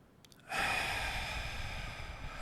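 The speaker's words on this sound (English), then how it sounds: "we're talking about diaphragmatic breathing." One slow, deep diaphragmatic breath is drawn in close to the microphone, a long airy rush of air that begins after a short quiet pause and carries on steadily with no talking.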